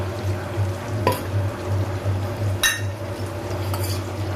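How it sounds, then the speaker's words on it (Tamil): Fish fries in oil on a dosa griddle with a steady low sizzle, punctuated by a few sharp scrapes and clinks of a metal spatula, close up with no talking. "அப்படியே தோசைக்கல்லில் வறுத்தாதான் உடையாமல் வரும்."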